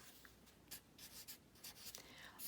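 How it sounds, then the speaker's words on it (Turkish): Marker or chalk strokes on a classroom board as algebraic expression terms are written out during a maths lesson, a series of short scratchy bursts, fairly faint and close. "İşte bunun terimlerini yazıyorum"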